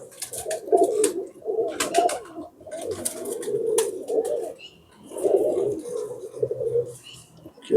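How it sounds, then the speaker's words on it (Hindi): Pigeons coo in repeated low, throaty bursts from a show breeding pair, loud and close, with high chirps from other birds overhead and faint talk in the background. "ये कबूतर दिखाएं"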